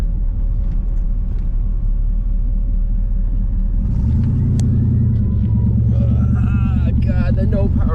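An LS-swapped Firebird V8 suspected of bad spark plugs idles with a deep, uneven, loping rumble, then the revs climb and hold higher while someone talks over it.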